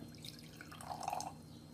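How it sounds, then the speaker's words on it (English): Water is poured into a cup for a density experiment, making a faint, brief trickle and splash that swells in the middle and then fades in a quiet room. "First, we're going to add water to the cup."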